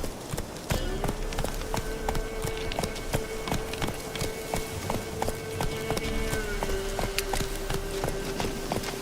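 Roach the horse gallops in The Witcher 3, a steady, fairly close clip-clop of hooves repeating throughout over a low ambient hum.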